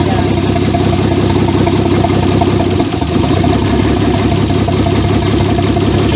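Turbocharged Holden VL engine with no exhaust idling loud and close, a steady rough rumble with a brief dip partway through.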